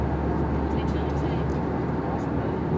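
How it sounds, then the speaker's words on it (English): Steady low roar of a passenger airplane cabin in flight on a busy service to Belfast City, a constant dense drone filling the space with faint murmurs from other passengers. "it's a very busy plane."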